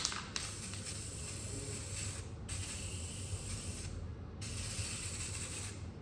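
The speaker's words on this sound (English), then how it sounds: "now I hit it with a wet coat and see what happens." Spray gun lays a wet coat of paint on a Volkswagen Transporter, a quiet, continuous hiss with slight breaks in the airflow, close by and alone.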